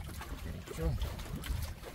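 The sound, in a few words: fishing boat engine straining while hauling a large net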